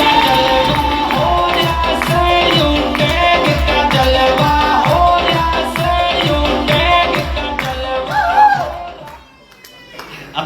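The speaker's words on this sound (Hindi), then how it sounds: "एक बार डायरेक्ट सेलिंग इंडस्ट्री के लिए ताली हो।" An audience at a direct-selling industry gathering bursts into sustained rhythmic clapping and cheering, loud and close, with voices mixed in, before tapering off near the end.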